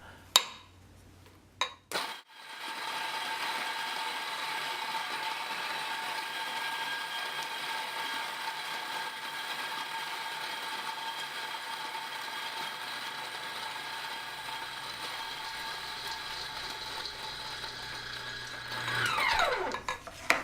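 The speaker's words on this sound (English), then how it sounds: "For me, I generally just grind directly into the cone." A coffee grinder grinds beans straight into a pour-over cone in one steady, close, whirring drone lasting most of the clip, preceded by a few clicks at the start and rising to a brief higher whine at the end.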